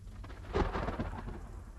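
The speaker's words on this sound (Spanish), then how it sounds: "noté que la lluvia crecía en intensidad, más que una simple lluvia. Ya era una tormenta, y los relámpagos se encargaron de hacerlo notar." Thunderstorm sound effect: a swelling roll of thunder rumbles over steady, hissing rain, loud and continuous for a couple of seconds.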